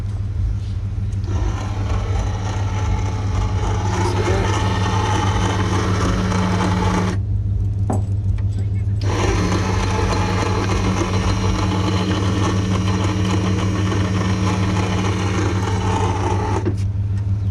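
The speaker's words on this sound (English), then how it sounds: "That's your hand crank." A hand crank winch on a car trailer gives a steady mechanical whirring drone that runs almost continuously, pausing briefly midway, close and fairly loud.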